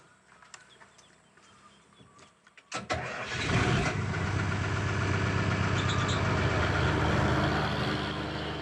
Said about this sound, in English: The generator uses about 130 liters of diesel, equivalent to the fuel consumption of 2 cars per day.